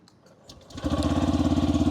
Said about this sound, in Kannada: ಇದರಲ್ಲಿ ಕೇಳಿಸಲ್ಲ ಡೈರೆಕ್ಟಾಗಿ ಇಂಜಿನ್ ಆನ್ ಆಗುತ್ತೆ ನೋಡಿ